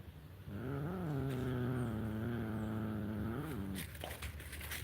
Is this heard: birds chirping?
no